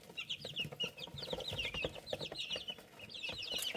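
Chickens cluck and chatter together at night feeding time, several birds close by making steady, overlapping clucks and squawks throughout.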